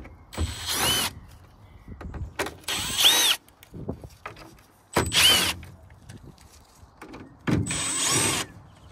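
A power tool removes Torx bolts from a vehicle control module in several short whirring bursts, each a second or so, separated by quiet pauses with small clicks and handling noises.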